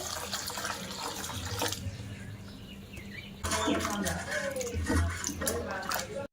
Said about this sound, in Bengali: এবার একটু জল দিয়ে ধুয়ে নেব আমগুলো।